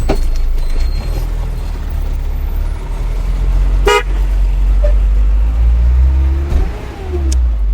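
A van with a knocking gearbox rumbles at low pitch throughout, loud and close. One sharp knock lands partway through over the steady engine drone.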